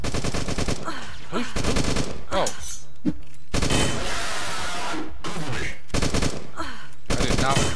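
Rapid bursts of automatic gunfire from a first-person shooter video game crackle loud and continuous, broken by brief gaps between volleys.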